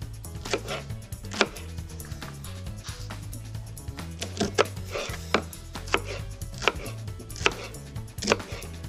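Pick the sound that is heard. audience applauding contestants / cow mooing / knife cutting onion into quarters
knife cutting onion into quarters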